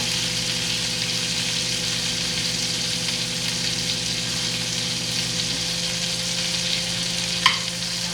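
A steak searing in a hot pan gives off a steady, loud sizzle and spit of fat, with a low hum underneath and a single sharp clink near the end.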